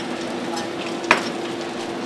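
Meat sears in a hot pizza oven, giving a steady close-up sizzle and crackle with a single sharp metallic clink partway through.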